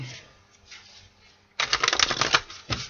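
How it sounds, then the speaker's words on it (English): Tarot cards are shuffled close by, a quiet rustle followed by a sudden loud run of rapid riffling flutters, with one more short burst at the end. "4 shuffles for Sagittarius, my guy."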